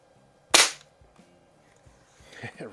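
A single sharp, loud air rifle shot from either a Daisy 753 or a Crosman 101 cracks out near the start, followed by quiet handling clicks and faint rustling.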